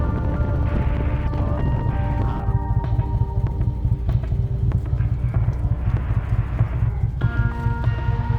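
Horses walking on the road across the Bichiy Syn plateau in the Caucasus, their hooves clip-clopping in a steady, close rhythm over a constant low engine rumble, with no voices.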